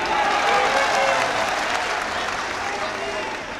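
Loud, steady applause from an audience at a mushaira poetry recital at the Nauchandi Mela in Meerut, a dense roar of clapping that stays strong throughout and tapers slightly near the end.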